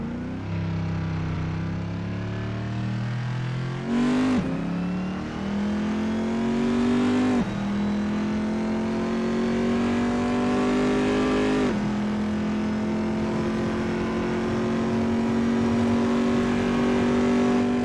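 Racing car engine held at full throttle in a racing video game, a loud, steady, buzzing drone that climbs in pitch, drops briefly at a gear change, then climbs again, with no talk.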